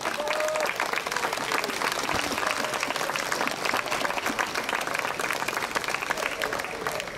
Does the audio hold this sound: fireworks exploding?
no